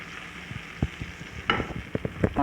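Cooked tomatoes being mashed with a spatula in a hot pan, with a series of soft, uneven scraping and squelching strokes over a low sizzle, close by with no voices.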